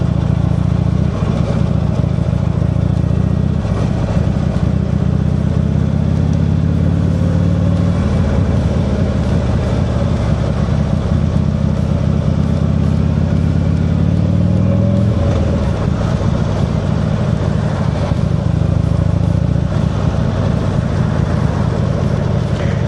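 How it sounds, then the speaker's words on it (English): Harley-derived motorcycle engine with a five-speed gearbox, running continuously with a deep, throbbing rumble, loud and close throughout, pitch shifting slightly as it revs. "it's a typical Harley derived engine"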